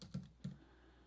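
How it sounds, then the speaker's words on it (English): Two sharp key presses on a computer keyboard, close and quiet, spaced about a third of a second apart in a silent room while a design search term is typed. "I'm gonna type in Valentine's Day t-shirt"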